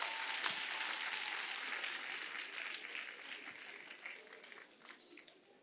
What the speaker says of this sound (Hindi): जोरदार तालियां खुद के लिए होनी चाहिए।